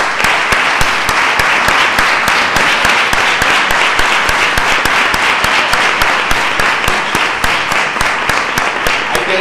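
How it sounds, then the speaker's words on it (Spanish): Loud, sustained audience applause at a literary contest award ceremony in Torrox, with many hands clapping in a dense, even roll throughout. "Un fuerte aplauso para él."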